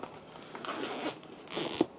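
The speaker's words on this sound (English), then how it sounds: "Now we're going to unzip this." A zipper on a pouch from an Emlid Reach RS2 unboxing is drawn open in two short rasping pulls, close by, ending in a sharp tug.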